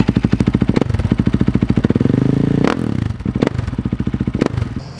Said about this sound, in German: Das war eine Supermoto.